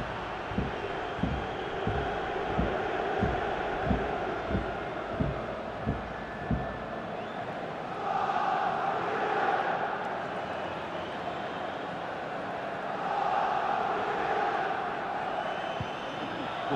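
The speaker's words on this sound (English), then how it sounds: "The crowd certainly thinks so. Just listen to that noise." A stadium crowd roars in swelling waves at San Siro during a Milan derby in FIFA 22, rising to a loud surge after a steady rhythmic thumping early on.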